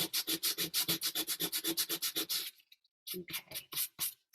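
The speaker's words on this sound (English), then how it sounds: "You can see where I've sanded more versus where I've sanded" Magazine collage paper layered with tape being sanded by hand, loud close rhythmic rasping strokes in a fast even run, a brief pause, then a few more strokes.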